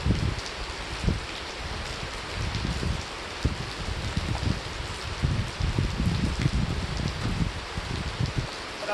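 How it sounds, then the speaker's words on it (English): Rain falls steadily outdoors on a hiking trail, a dense, even hiss of drops spattering on nearby surfaces, with no voices and no letup. "But I want this rain to stop"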